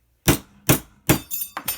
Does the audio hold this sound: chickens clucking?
no